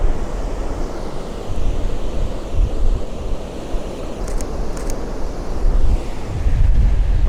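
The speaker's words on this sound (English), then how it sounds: "it's the waves breaking further out that I want to try to get." Ocean waves breaking offshore along a coastline, a steady rolling roar of surf with wind buffeting the microphone throughout, swelling louder toward the end.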